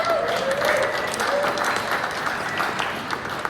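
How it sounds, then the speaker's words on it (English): A crowd at a mayoral candidate forum applauds itself, producing steady, full clapping that stays fairly loud throughout the few seconds, with no talk over it. "I just want to let you give yourselves a round of applause."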